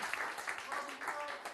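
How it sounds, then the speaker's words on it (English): A crowd claps for the crew at an outdoor concert, a short burst of applause heard at moderate distance with voices mixed in. "Another round of applause for Greg and the crew"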